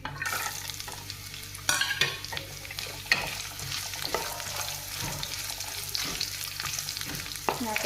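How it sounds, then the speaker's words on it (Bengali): Asafoetida sizzles in hot oil with grated coconut being fried, a continuous close crackle broken by frequent stirring scrapes and a few louder clanks of utensil against pan, no voices. "তো হিংটা হালকা ভাজা হলে হয়ে গেছে। এখন আমি নারকেলটা দিয়ে দেবো।"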